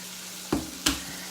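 Red pepper flakes and anchovies in a frying pan over a low hum, with two sharp bursts of sizzle or clatter about a third of a second apart, close and without speech.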